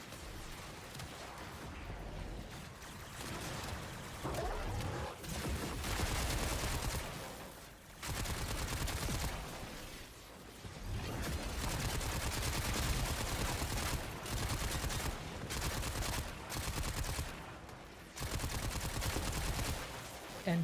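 Sustained bursts of automatic gunfire from a favourite gun in the PC shooter Warframe, dense and loud for most of the stretch with a few brief gaps, with no talking.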